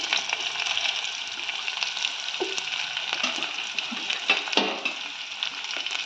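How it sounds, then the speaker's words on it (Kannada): Chopped onions and green chillies fry in a pan with a steady, close sizzling hiss, broken by a few soft taps from stirring and no talking. "ಈರುಳ್ಳಿ, ಮೆಣಸಿನ್ಕಾಯಿ ಸ್ವಲ್ಪ ಮೆತ್ತಗಾಗೋವರೆಗೂ ಫ್ರೈ ಮಾಡ್ಕೊಳ್ಳೋಣ"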